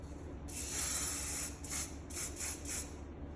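A spray bottle puffs out mist in one long hiss followed by four short, quick bursts, close and crisp against a quiet background.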